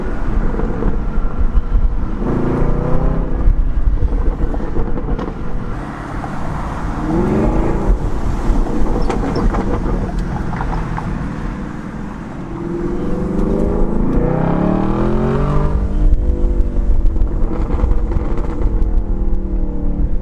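Inside a Camaro SS fitted with an H pipe, the V8 drones loud and steady under cabin wind noise, with a few rising and falling rev surges as a downshift is rev-matched.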